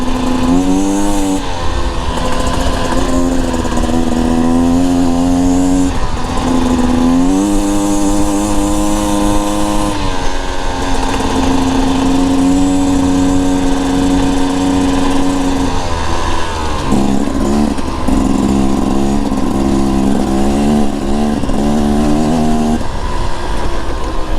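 A Beta Xtrainer dirt bike engine drones steadily and loudly while riding on desert and mountain trails, its pitch rising and falling as the throttle opens and eases, continuous throughout with no voices.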